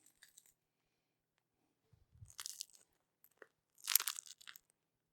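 Several crisp bites into a crunchy homemade pretzel bun with a thick crust, quiet and close, in short crackling bursts separated by near silence.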